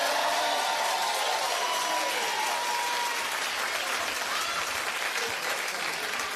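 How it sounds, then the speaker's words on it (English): Loud, sustained applause from the studio audience of a talk show, a dense wash of clapping that fills the room throughout, with a voice talking over it. "You clap at anything."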